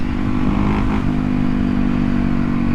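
A motorcycle engine runs close by in a loud, continuous drone that holds steady with no clear revving and no speech.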